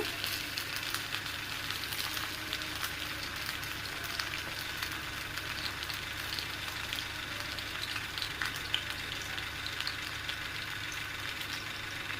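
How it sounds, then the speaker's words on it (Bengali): Coconut oil poured into a hot pan gives a steady, even sizzle and frying hiss that runs unbroken at moderate level from start to finish, with no voices. "এবার কোকোনাট অয়েলটা দিয়ে দিব।"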